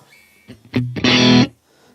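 A short burst of dry, distorted electric guitar through a Vox AC30 amp plugin with no reverb: a couple of quick picked notes then one harsh chord, cut off abruptly with no room echo.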